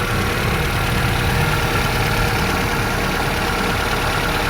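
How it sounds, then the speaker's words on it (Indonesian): A Kia Visto (Hyundai Atoz) engine idles close by, a steady continuous rumble with a faint knocking texture and no change in pace. "Ini suara mesinnya seperti ini."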